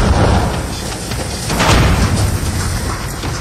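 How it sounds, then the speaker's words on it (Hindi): An IED hidden in a bicycle leaned against a pole detonates with a loud, deep, rumbling boom that sustains as a dense roar across the whole few seconds. "इस साइकिल धमाके के लिए आईईडी का इस्तेमाल किया गया था"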